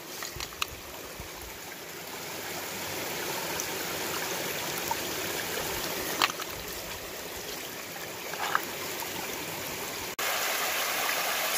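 A creek running over rocks and quartz-bearing gravel gives a steady, moderate gurgling flow, close by, with a few faint clicks and knocks on top.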